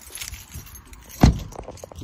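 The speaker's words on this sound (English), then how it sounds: "I'm trying to get my keys out," House keys jangle and rattle close by in short scattered bursts, with one sharp metallic clack standing out near the middle.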